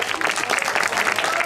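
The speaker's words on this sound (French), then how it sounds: "une bonne main d'applaudissements pour nos 5 compétiteurs qui sont ici" Audience applause at an outdoor culinary competition between mayors in Farnham, Quebec, a steady dense clapping that fills the whole stretch at close, loud level without pause.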